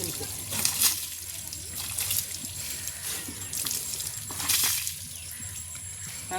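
Tap water runs in a steady, splashing stream onto a vehicle being washed at a temple in Odisha, with trickling and dribbling surges close by and voices faintly in the background.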